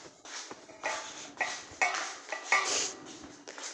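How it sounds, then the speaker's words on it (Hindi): Dishes and utensils are shifted about in a home kitchen, producing a run of clinking, clattering knocks of plates and cutlery at close range with no voices. "बर्तन रखना, बर्तन इधर से उधर करना।"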